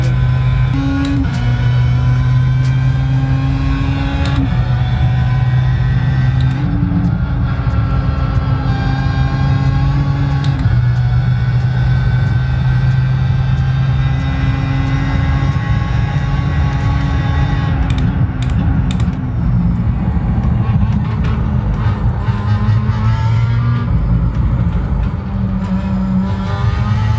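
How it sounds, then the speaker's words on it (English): A car engine in a home racing simulator revs continuously, climbing and dropping through gears with a loud, steady whine and occasional shift blips throughout. "Got to get used to the revs on this car, a little different than what I'm used to driving."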